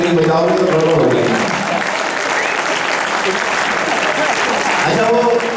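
An audience at a Hindi kavi sammelan poetry gathering bursts into loud, sustained applause lasting several seconds, with a voice speaking at the start and again at the end.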